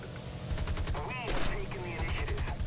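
Rapid bursts of aircraft machine gun fire in War Thunder, a fast rattling stream of shots with engine drone underneath and brief whistling tones, sustained loud throughout.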